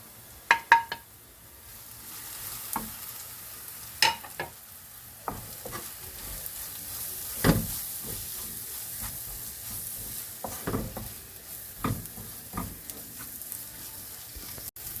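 Spice powders (chili, pepper, garam masala, turmeric) are sautéed in a pan for chicken curry, with a soft ongoing sizzle broken by repeated sharp spoon scrapes and clinks against the pan, close and fairly quiet.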